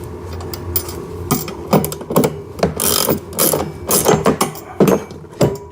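A nut and washer are tightened onto a screw during assembly of a ride-on RC car, with a ratchet clicking in uneven bursts of loud, close, crisp ticks and short pauses between strokes.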